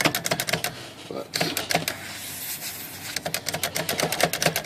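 Rapid, uneven mechanical key strikes from a Smith Corona manual typewriter, clattering in bursts with a short pause partway through, fairly close.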